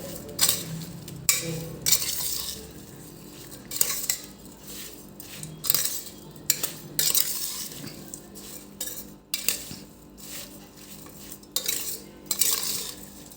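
Metal utensils clink and scrape against a large pot in repeated bursts as carrot and chilli pickle ingredients are mixed, with no talking.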